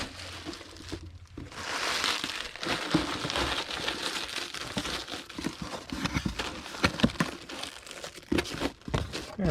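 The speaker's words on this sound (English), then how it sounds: "I'll just leave the stand on there while I wrap her up. Put the tape right on." Packing tape is pulled and wrapped around a boxed figure still on its stand, giving loud crinkling and rustling with sharp tearing bursts, close and continuous for several seconds.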